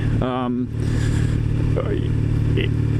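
A Triumph Thruxton motorcycle engine idles steadily throughout, a constant low rumble, with a voice speaking briefly over it near the start.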